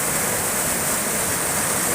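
River water rushes loudly and steadily at a rafting spot. A dense, continuous roar fills the whole moment, with no voices or breaks.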